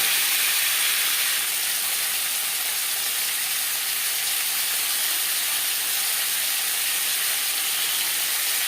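Potatoes sizzle in hot oil with panch phoron five-spice while a fish curry is being made, giving a steady, loud, broadband hiss that holds evenly throughout with no voices.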